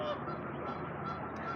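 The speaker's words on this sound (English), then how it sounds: "I don't know if they're honking because I'm here or if they're just honking." Geese in a park honk repeatedly up close, a dense, continuous chorus of loud calls with no pause and no talking over them.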